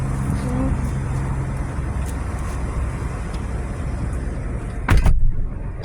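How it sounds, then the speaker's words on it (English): Car doors closing at a hand car wash, a sharp solid thud near the end over steady outdoor background noise, with people talking earlier. "they both close their doors."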